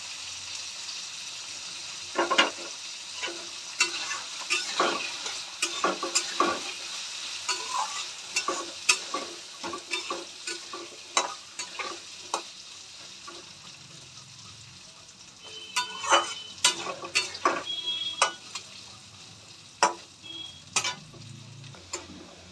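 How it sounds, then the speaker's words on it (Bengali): Potatoes dusted with turmeric frying in a pan, a steady sizzle under frequent sharp scrapes and taps of a spoon being stirred through, close and fairly loud. "আলুটা আমি লাল লাল করে ভেজে নিয়েছি"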